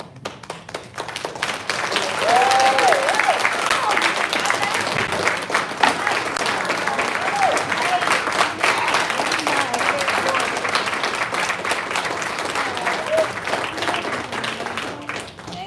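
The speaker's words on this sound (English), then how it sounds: "I would like us all to give Dorothy a round of applause" An audience at a county drug treatment court graduation gives Dorothy a sustained round of applause, with dense clapping that swells and holds for the full length amid a few scattered voices.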